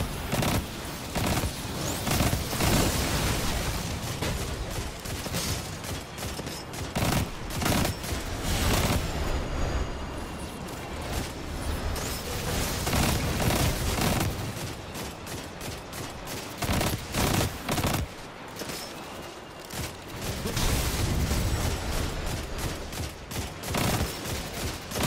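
Gunfire in Destiny 2, continuous bursts of rapid automatic fire crackling on and off for the whole stretch, with brief lulls between volleys and a fairly loud, busy sound.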